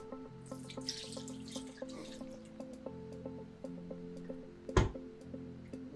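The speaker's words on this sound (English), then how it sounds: "now we have a cup of milk, and we're gonna add that" A cup of milk is poured into butternut cake batter, making a soft trickling, dripping sound beneath background music, with one sharp clink near the end.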